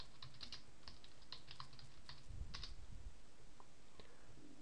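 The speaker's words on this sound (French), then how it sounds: "Par exemple, nous on va écrire Charles Baudelaire." Typing on a computer keyboard, soft quick keystrokes clicking in short irregular bursts, close and quiet, with a brief duller thump midway.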